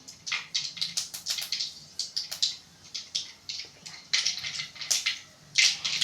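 Mustard seeds splutter in hot oil while fish kulambu is being made, giving close, rapid, irregular pops and crackles in quick bursts across the whole stretch, with no voices.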